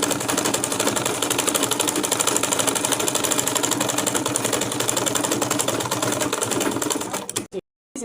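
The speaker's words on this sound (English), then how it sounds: "So now I'll be sewing it down from this end." A sewing machine stitches a seam on a cap, a loud rapid mechanical chatter running steadily for several seconds before stopping abruptly near the end.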